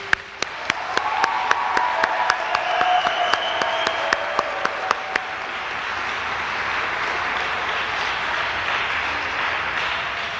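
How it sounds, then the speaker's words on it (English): Applause for graduates at a police junior graduation ceremony, opening with one nearby clapper's sharp, evenly spaced claps over a broad crowd, then settling into a steady, sustained wash of many hands. "I would just want you guys to do another round of applause for the graduates."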